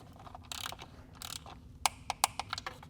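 A ratchet clicks in short bursts while tightening the oil filter housing bolts on a BMW B58 engine, close and crisp, with quick pawl ticks followed by a few sharper separate clicks and no talk.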